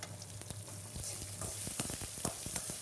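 Small peeled shallots sautéing in a pan for a yellow pumpkin tamarind curry, a faint soft sizzle with a few clicks and scrapes from stirring, heard close with no voices.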